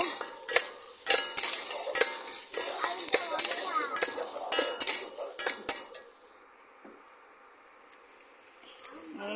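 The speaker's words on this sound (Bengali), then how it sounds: "বন্ধুরা আদা রসুন পেঁয়াজ ভালো করে ভেজে নেব" Ginger, garlic and onion fry in a pan, with a sizzle under sharp, repeated clanks of a utensil stirring against the pan. The scraping and sizzle fade to a quiet hiss partway through.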